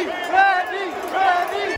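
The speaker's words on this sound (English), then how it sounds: "everyone was just chanting" A stadium crowd at a Rays playoff game at Tropicana Field chants a player's name, Randy, in loud rhythmic two-beat bursts, with many voices rising and falling together across the stands.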